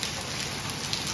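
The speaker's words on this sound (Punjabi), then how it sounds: "ਬਹੁਤ ਹੀ ਜ਼ਿਆਦਾ ਤੇਜ਼ ਹੋ ਗਿਆ ਮੀਂਹ" Heavy rain pours down steadily on a rooftop during flood-like weather, a dense, constant near hiss of water with no pauses and no voices.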